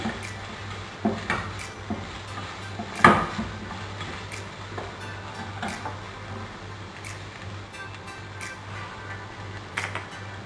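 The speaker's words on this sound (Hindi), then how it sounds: "चॉप और इसे डाल के मैं हल्का सा सौते करूँगी" Chopped ingredients sauté in a pan while utensils tap and scrape it. There are intermittent clinks and knocks over a steady low hum, fairly close and moderately loud.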